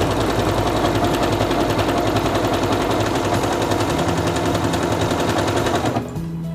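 A SINGER Quantum Stylist 9960 sewing machine stitches fabric in a fast, steady mechanical rattle, loud and close, stopping abruptly near the end.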